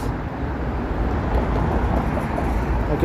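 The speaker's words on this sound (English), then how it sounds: "I can hear a subway passing underneath" A subway train passing along the underside of a Toronto viaduct, a loud, continuous low rumble that holds steady throughout, with no voices.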